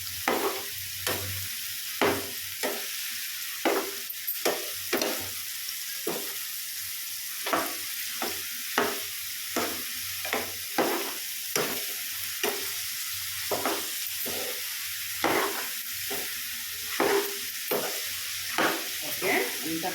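A ridge gourd curry sizzles in a pan as it is stirred, with a soft steady frying hiss and regular scraping spoon strokes recurring every second or so, close and unhurried, no talking.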